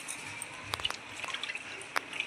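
Water drains from soaked rice for chicken biryani, with faint close drips and small trickling splashes in a short quiet burst.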